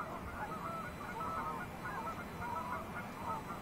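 A flock of geese honking over the benchlands on a rainy December day, overlapping nasal calls repeating steadily at middle distance over soft background noise, with no one talking.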